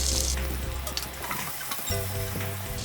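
Chopped large onions hitting hot oil in a pan, giving a loud bright sizzle that fades and then swells again as they are stirred, with scraping clicks of a utensil.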